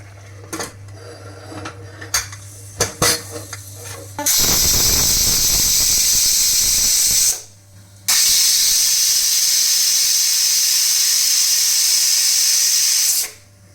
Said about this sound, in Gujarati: હવે કુકરનું ઢાંકણું બંધ કરીને 3 સીટી મારશું